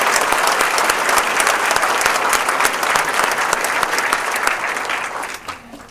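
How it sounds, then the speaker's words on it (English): A large audience applauds steadily at an awards ceremony during a university water conference, a dense sustained clapping that fills the room and tapers off at the end. "if we could please have a round of applause for all of the Circle of Excellence awards"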